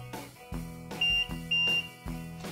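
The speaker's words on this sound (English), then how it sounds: "You can also use the horn, which sounds more like a high-pitched beep." A high-pitched electronic horn on a Hover-1 XLS folding electric scooter beeps in several short bursts, with two slightly longer tones in the middle, sounding close and clear.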